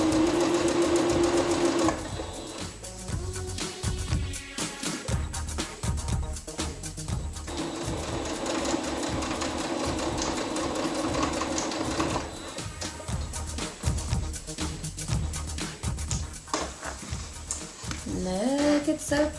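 A domestic sewing machine stitches through fabric and a paper pattern, whirring in steady runs that stop and restart several times.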